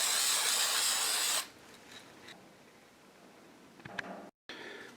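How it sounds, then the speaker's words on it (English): A spray can lays red paint onto the second hands of a homemade clock in one loud, steady hiss of about a second and a half. Quieter faint handling noises follow, with a brief second spurt near the end. "I'm just going to take and spray a little red on there."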